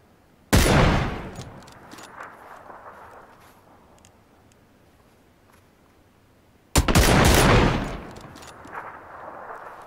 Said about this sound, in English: Two headshots. Gotta love that M24.